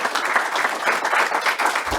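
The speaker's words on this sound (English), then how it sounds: "let's give him a round of applause" Applause from attendees at a Murray City council meeting, a steady wash of clapping lasting about two seconds, fairly loud and close, with no speech over it.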